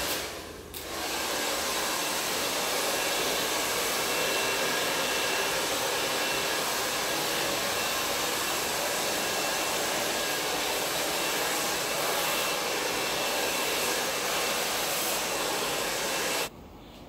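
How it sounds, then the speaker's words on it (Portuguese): Hair dryer blowing on freshly cut, layered hair with a fringe, a loud, steady broadband whoosh that switches on, runs continuously for about fifteen seconds close by, then cuts off. "Vou secar esse cabelo e já já eu mostro para vocês"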